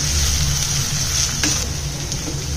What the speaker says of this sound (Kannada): ಇದೆಲ್ಲ ಚೆನ್ನಾಗಿ ಫ್ರೈ ಆಗಬೇಕು ಎಣ್ಣೆಲಿ